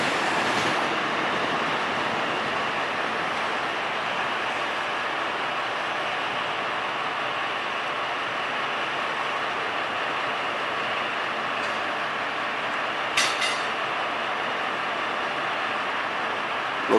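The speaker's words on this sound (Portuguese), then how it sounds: "Agora um trem da série 8500, que atualmente são os trens aqui da linha 7 Rubi" A CPTM series 8500 commuter train on line 7 Rubi passes by with a long, even rushing roar of wheels and air, heard fairly close, with a short sharp squeal near the end.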